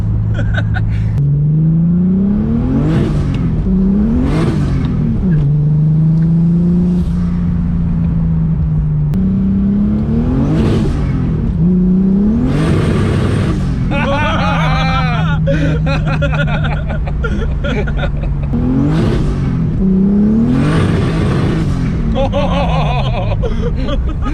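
A car with a built engine pulls away on light throttle on a wet road, the exhaust note rising and falling in repeated revving sweeps, loud and close, with occupants talking and laughing over it.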